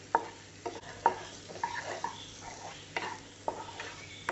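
Cubed capsicum and onion stirred in a pan for chilli porotta, a few distinct scraping strokes at an irregular pace over a faint, low sizzle, fairly quiet with no talking.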